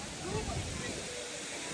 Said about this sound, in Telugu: చూడండి వాటర్ ఫాల్ చూపిస్తుంది చూడండి